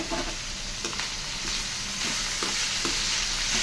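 Ivy gourd fry being stirred in a hot pan, with a steady loud sizzle and scraping strokes of the spatula running throughout, no voices.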